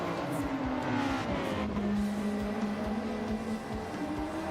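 A Group 3 race car in a racing video game drives past in a team cup race, its engine note droning steadily and shifting pitch as it goes by, with other engine noise underneath.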